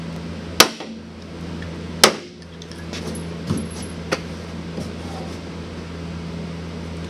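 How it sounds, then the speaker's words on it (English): Rivets of one-eighth inch being set on a 1980 Ski-Doo Everest snowmobile, a few sharp close snaps spaced seconds apart over a constant low hum. "All right, so I got 1/8 inch rivets going in here."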